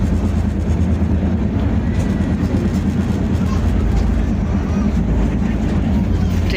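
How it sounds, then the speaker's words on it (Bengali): A train pulls away from a station, its dense, steady rumble and rolling noise filling the background continuously. "ট্রেন ছেড়ে দিল।"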